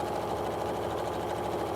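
A sewing machine stitching a fabric surgical face mask runs in a steady, fast, even whir with rhythmic needle chatter, close and continuous with no pauses or talk.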